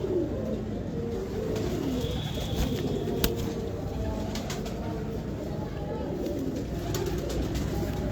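Pigeons coo repeatedly in a loft or yard, with soft throaty calls over steady background noise and occasional wing flaps or clicks; no talking is heard.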